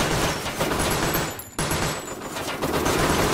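Continuous rapid enemy gunfire in a VR shooter game, loud and close, with a brief break midway before the volley resumes.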